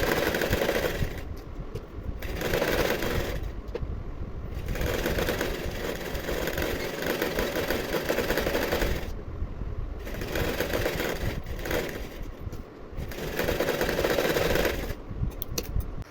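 A sewing machine stitches the open sleeves of a blouse lining in repeated bursts of steady whirring separated by short pauses, close and moderately loud with no talking.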